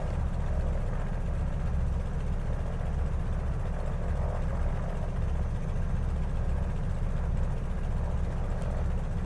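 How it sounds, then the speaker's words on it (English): The Carenado Beechcraft Model 18 in MSFS2020 drones on its takeoff run, a loud, steady engine roar with a pulsing low rumble that holds constant and has no talking over it. "we're going to go ahead and take this plane off"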